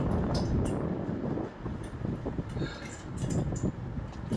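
Wind blows across a mountain trail on the route to a hilltop temple, a loud, rumbling gusty roar that buffets the microphone, easing briefly midway before building again.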